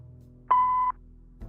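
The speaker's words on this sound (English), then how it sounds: "if you leave your details after the beep, I'll get back to you" An answering machine in the Kathy Rain 2 video game sounds a single clean, steady electronic beep lasting under half a second, loud against a faint hum, followed by a brief low click.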